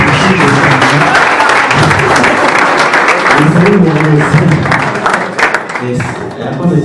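A crowd at a Liberation Day celebration in Kinyinya claps loudly and continuously, dense applause with voices and cheering blended in, easing slightly near the end.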